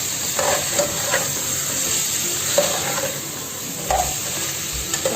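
Chicken pares is stirred in a hot pan, giving a continuous close sizzle broken by several scraping, clattering strokes of the spoon against the pan, with no voices.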